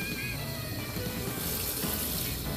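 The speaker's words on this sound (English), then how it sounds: "we're going to put some water in here" A kitchen faucet runs steadily as water fills a cooking pot, a constant close rushing stream with no pauses.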